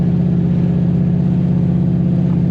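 Turbocharged Mustang fitted with a big Circle D torque converter, engine droning steadily and loud under part throttle in city driving, a continuous low rumble with no gaps.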